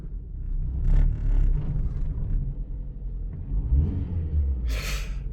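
A 1996 Proton Saga 1.5 SL with a new master cylinder pulls away slowly on private land in gear, giving a low engine rumble close by, with a brief hiss near the end.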